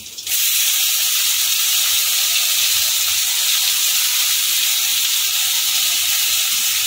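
Potatoes dropped into hot oil with a spice tempering, cooked for a Bengali ridge gourd and prawn shukto, giving a loud, steady sizzling hiss that starts abruptly and holds evenly throughout.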